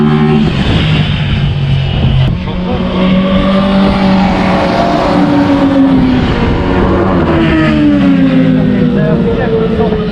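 An Aprilia RS 660 motorcycle rides on the Fay de Bretagne race track, its engine loud and close, revving up and down through rising and falling pitch sweeps, with voices talking over it.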